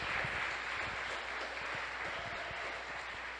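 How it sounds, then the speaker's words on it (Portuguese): A church congregation applauding in praise during a service, a dense, even rain of many hands clapping, fairly distant and steady throughout with no voices on top. "Dê um aplauso de louvor para Jesus nesse momento."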